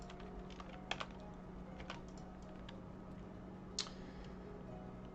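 Fast typing on a computer keyboard, with rapid soft key clicks in a steady stream and a couple of sharper, louder taps standing out, close up and quiet.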